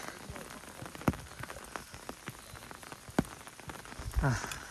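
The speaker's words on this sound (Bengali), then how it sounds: "মনোরম পরিবেশ, গুড়ি গুড়ি বৃষ্টি, ছাতা হাতে আমরা 3 বন্ধু পাহাড়ের উপর এই সৌন্দর্য এক্সপ্লোর করতে আসছি।" Light drizzle patters on a hillside jungle, with scattered sharp drops striking an umbrella or leaves over a soft, steady background hiss.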